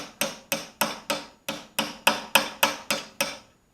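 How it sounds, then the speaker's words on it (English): A hammer drives a chisel into the split collar of a front control arm on a 1976 Chevy C10, eleven sharp metallic strikes in an even, steady rhythm, close and loud, each ringing briefly before the next. "What I'm going to start by doing is going in the bottom and just hammering this chisel into that split."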